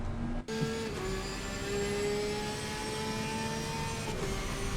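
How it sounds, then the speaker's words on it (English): A sustained, high-pitched flat-six race car engine howl at Zandvoort circuit holds steady and loud, its pitch shifting slightly as it runs on with no talk. "That signature howl of that flat 6 engine."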